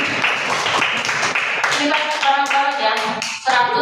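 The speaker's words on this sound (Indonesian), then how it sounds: "Give applause." Students applaud in a classroom, a few seconds of brisk, close clapping that runs under a teacher's voice.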